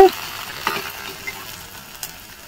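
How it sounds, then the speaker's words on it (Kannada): Onion sandige, sun-dried onion crisps, frying in hot oil, giving a steady bubbling sizzle with a few soft stirring clinks, close and alone. "ಈ ರೀತಿಯಾಗಿ ನಾನು ಎಲ್ಲ ಸಂಡಿಗೆಗಳನ್ನ ಫ್ರೈ ಮಾಡಿಕೊಂಡು"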